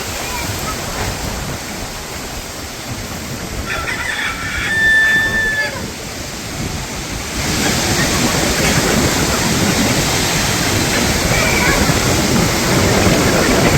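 A strong storm wind roars through a rural Bangladeshi village, a loud broadband rush that swells midway and stays heavy, buffeting the microphone, with a brief bird call partway through and rain starting.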